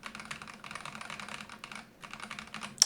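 Rapid clacking of keys typed on a gaming keyboard with light actuation force, in two fast bursts split by a short pause, close and clear with no talking.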